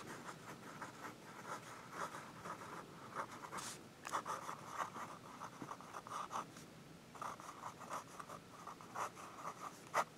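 SKB F19 fountain pen with a wet nib scratching across paper, soft close strokes in short bursts separated by brief pauses, quiet and alone.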